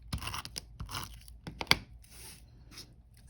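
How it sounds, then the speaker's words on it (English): An adhesive tape runner rolled onto a handmade Halloween card gives a run of short crackling, tearing bursts with a sharp snap near the middle, close and fairly quiet, with no talking. "I'm going to use the adhesive tape runner"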